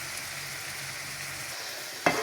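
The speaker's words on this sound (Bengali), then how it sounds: "মাংসগুলো হালকা ভাজা হলে আমরা পেঁয়াজ ছেড়ে দিব।" Meat and onion fry in a pan with a steady, close sizzle, and a sharp scrape of stirring comes through near the end.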